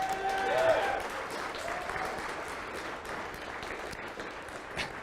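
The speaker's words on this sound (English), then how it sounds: "So can I get a round of applause for everybody who's gone and everybody who's about to go?" An audience at a capstone project showcase applauds with a sustained patter of clapping that swells at the start, then settles to a moderate, steady level.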